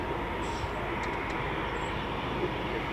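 A Eurofighter Typhoon FGR4 jet at RAF Coningsby gives a steady, broad roar that holds without a break, fairly faint and distant.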